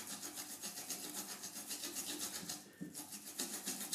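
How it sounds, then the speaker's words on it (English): Fresh ginger rubbed over the top of a kitchen grater makes quick, rhythmic rasping strokes, faint but close, in steady repeated bursts with no one talking. "I grate the ginger here on the top. Yeah, grating, grating, grating."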